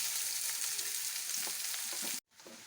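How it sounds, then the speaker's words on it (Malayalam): Sliced onions sautéing in a hot pan give a steady, close sizzling hiss with faint stirring scrapes, then a brief drop to near silence before the frying resumes. "ഇനി അതിലോട്ട് സവാള ഇടണം. അത് നന്നായി ബ്രൗണിഷ് ആവുന്നത് വരെ വഴറ്റണം കേട്ടോ."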